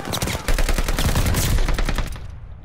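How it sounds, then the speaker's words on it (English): Rapid gunfire in Call of Duty Vanguard, a dense run of sharp shots from a silenced pistol amid busy game action, loud and close, trailing off into near quiet at the end. "Silence pistol"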